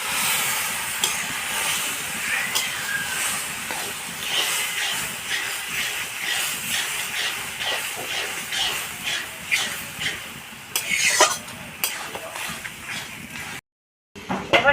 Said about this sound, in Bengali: ভালো করে কষবো, একদম শুকনো শুকনো হবে